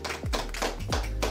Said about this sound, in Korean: 자, 우리 리더에게 박수.